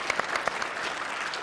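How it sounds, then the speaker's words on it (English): A short burst of audience clapping, fairly close and dense, fading slightly toward the end. "Thank you for that solicited applause."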